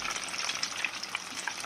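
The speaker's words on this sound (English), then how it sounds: "So you have to very carefully take it out because the oil is hot," Arancini fry in hot boiling oil with a steady close crackling sizzle and scattered pops throughout, with no voices.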